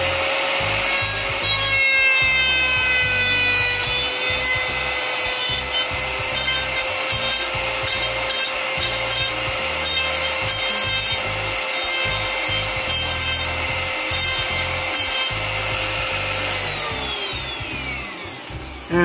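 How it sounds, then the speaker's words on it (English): A Dremel rotary tool cuts and files a duct with a steady, high whine and a gritty rubbing texture, running loud and close for most of the stretch before winding down near the end. "You want to turn on your Dremel tool."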